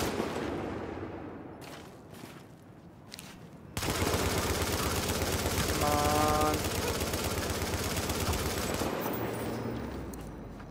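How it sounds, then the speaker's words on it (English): An LMG machine gun in the video game The Division opens up after a few scattered shots, settling into a loud, sustained, rapid burst of automatic fire that rattles for several seconds before tapering off. "Gosh, this was an amazing LMG to get right off the bat"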